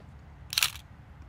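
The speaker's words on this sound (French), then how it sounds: "Vas-y, on se prend une petite photo." A camera shutter clicks once on a golf course, a short crisp snap standing out against quiet outdoor background, with no voices.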